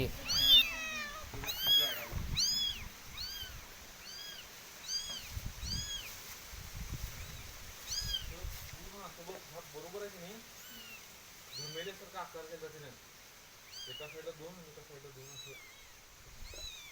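A cat meows repeatedly, with a few brief calls early on, while people talk in the background and rustling noises come and go.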